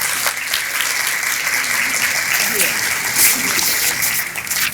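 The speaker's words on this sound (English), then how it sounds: "A big round of applause for all of them." Breakfast-meeting crowd claps to welcome brand-new members, a loud, dense, continuous round of applause that holds steady and then begins to thin near the end.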